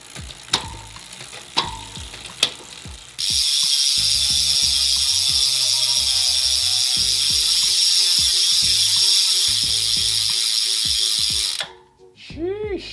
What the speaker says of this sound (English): here is a free hub sound test for these Elite Drive 45 millimeter depth wheels with, of course, ceramic bearings